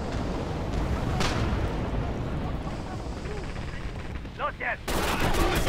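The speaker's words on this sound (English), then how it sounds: "Machine gun nest." Bursts of machine gun fire and distant battlefield gunshots in the Red Orchestra 2 video game, crackling and rumbling throughout, with a player's voice talking over the shooting.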